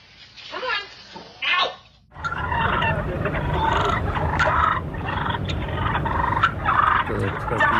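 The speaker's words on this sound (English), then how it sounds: "The little turkeys." Young turkeys gobble in a dense, continuous chorus of rapid, rattling calls, close and loud, after a few brief separate calls and a short pause at the start.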